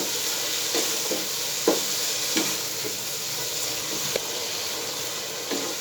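Boiled peas and turnip fry in a pan with a continuous sizzle, while a spoon scrapes and stirs in sharp knocks spaced about half a second to a second apart, close up and with no talk.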